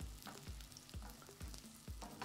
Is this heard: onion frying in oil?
yes